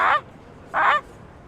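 A person imitates a Canada goose, giving two nasal honks spaced well apart, up close and moderately loud against a quiet background.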